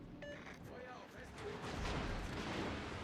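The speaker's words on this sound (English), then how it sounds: "Richelieu still wants to shoot at me" The French battleship Richelieu fires its guns in World of Warships: Legends, a deep rumbling boom rolling in and swelling over the second half, with other game sounds and a voice underneath.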